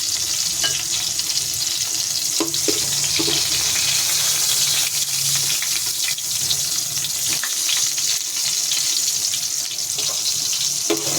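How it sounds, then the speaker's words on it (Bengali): Pointed gourd (potol) slices fry in a pan, giving a loud, dense, unbroken sizzle. Scraping and stirring sounds come through over it, and there is no talk. "দেখুন পটলগুলো এরকমই ভেজে নিতে হবে"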